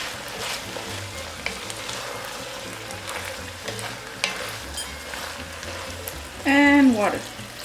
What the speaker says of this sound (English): now that my sausage is cooked, I'm just going to go ahead and add the lentil.